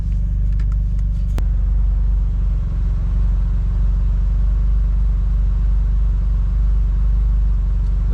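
Autozam AZ-1 engine idling with the cooling fan off, a steady close low rumble throughout, with a brief faint click early on and no talk.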